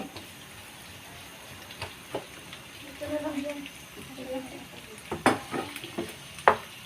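Sisig frying and sizzling in a pan while being stirred, a soft continuous hiss with occasional sharp scrapes and clicks from the utensil, close, with voices talking over it.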